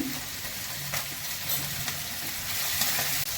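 Grated ginger and salt sizzle in a hot frying pan, a steady close hiss with faint stirring scrapes throughout.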